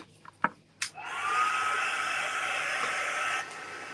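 A couple of clicks and knocks, then a heat tool or dryer switches on and blows a steady, close whooshing hiss for a few seconds while drying a handmade card, no voices.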